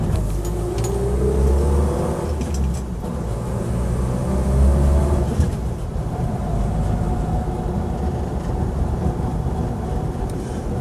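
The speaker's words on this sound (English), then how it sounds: "It's got a lovely engine." Land Rover Series 2A 88-inch engine droning steadily from inside the cab while driving, a low, rumbling hum with gear-driven whine rising and falling as it changes speed, fairly loud and with no talk.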